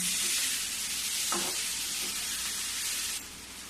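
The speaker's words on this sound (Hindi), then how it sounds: "अब इसको भी हल्का सा भूंजूंगी।" Tomatoes fry in a hot pan while cooking poi saag and potato bhujia, a loud steady sizzle filling the clip, with a couple of brief stirring scrapes and the hiss dropping slightly toward the end.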